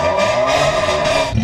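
A car fitted with a Baluchi straight-pipe exhaust muffler revs steadily, a loud, continuous raspy engine drone held throughout with a slight rise near the end.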